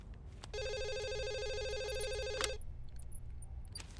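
A telephone rings on an outgoing call, a bright electronic warble that runs steadily for about two seconds and then cuts off, leaving quieter room tone with faint clicks.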